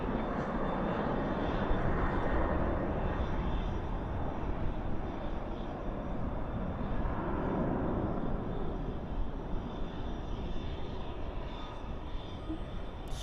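A large airliner rolling out after landing at night at Dallas/Fort Worth airport, a broad, steady engine roar from the thrust reversers at a distance, with no talk.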